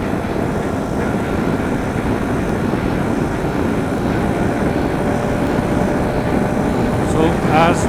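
A 2025 KTM 390 Adventure motorcycle engine revving at high RPM while riding on the highway, a steady loud drone mixed with heavy wind rush, with a rider's voice over it.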